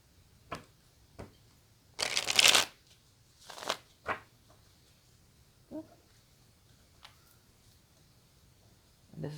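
A twin-experience oracle card deck is shuffled by hand: a few quiet taps, then a brief burst of riffling cards, followed by scattered soft clicks and card snaps in a quiet room.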